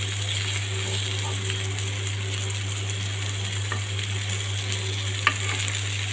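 Pumpkin-leaf fritters (bora) fry in oil in a pan, made with chepa shutki dried fish. A steady, even sizzle runs throughout over a low constant hum, with a few faint ticks and one small click.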